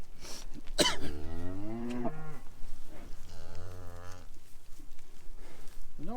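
Cattle on a farm moo loudly and close by, two long low calls with a throaty cough-like sound between them, over faint outdoor background noise.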